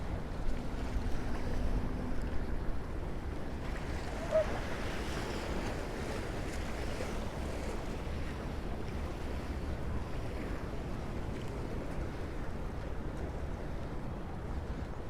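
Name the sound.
waves from a ferry's wake crashing on the shore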